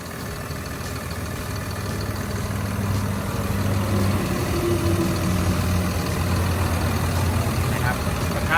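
A Caterpillar 950K wheel loader's diesel engine runs at a steady idle close by, a continuous low rumble with a faint whine on top, while someone talks over it.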